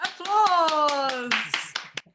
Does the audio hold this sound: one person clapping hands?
yes